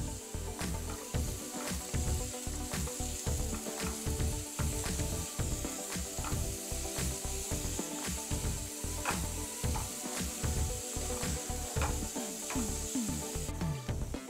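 Onions fry in a pan with a little salt, giving a steady close sizzle mixed with repeated scraping and stirring clicks throughout.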